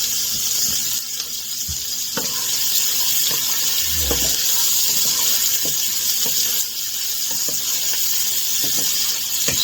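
Onions softening in a hot pan for breakfast tacos give a steady broadband sizzle and hiss that runs the whole way through, close and fairly loud, with faint scattered ticks and pops on top and no talking.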